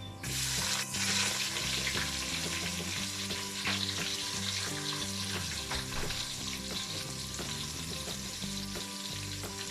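Cumin and onions frying in hot oil for baingan bhurta make a loud, steady sizzle with occasional stirring clatter against the pan and no voices.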